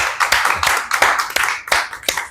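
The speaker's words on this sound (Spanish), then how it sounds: "fuerte aplauso para Nelly" A small class in an in-person course claps for Nelly, with close, loud, slightly uneven hand claps repeating in a steady rhythm for a couple of seconds and no talking.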